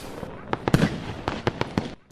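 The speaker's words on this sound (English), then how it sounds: "The fireworks in the night sky were bright and dazzling." Fireworks bursting in a night sky, a string of sharp cracks and pops arriving irregularly, some close and loud, others softer, over a background hiss.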